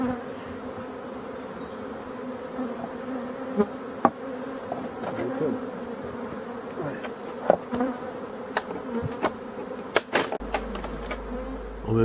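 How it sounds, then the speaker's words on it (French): Honeybees buzz steadily around an opened beehive during a hive body change, a dense, continuous drone close by with occasional light knocks and taps. "on voit que les abeilles sont pas agressives du tout"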